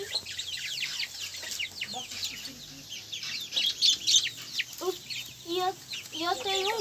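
A backyard hen clucks repeatedly at close range in short, uneven bursts, while voices talk nearby.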